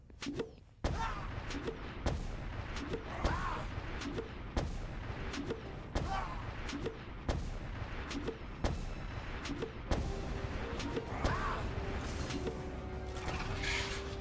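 Repeated booming blasts from exploding Pals in Palworld, a rapid series of loud, sharp detonations about every second or two over a dense rumbling game soundscape.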